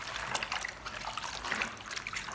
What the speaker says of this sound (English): Gently stir with your hands to dissolve the baking soda in the water.